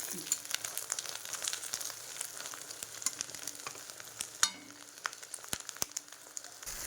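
An egg omelette fries in foamy oil in a pan. The sizzle is steady and close, with scattered sharp pops and crackles and one brief handling clatter.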